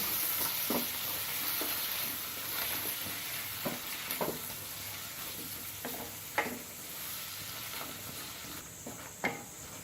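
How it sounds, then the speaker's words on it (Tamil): Three tomatoes sautéing in a pan for spicy paneer butter masala, a steady close sizzle broken by repeated scraping stirs of the spatula throughout. "இப்போ மூணு தக்காளி போட்டுக்கிறேன் அதையும் வதக்குவோம்"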